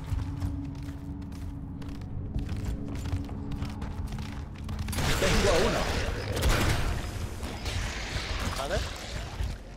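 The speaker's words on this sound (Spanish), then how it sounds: "Vale, abro puerta." A heavy door grinds open in Gears of War Ultimate Edition, a loud rumbling mechanical scrape with creaks that begins midway and swells, after a stretch of quieter clicking game sounds.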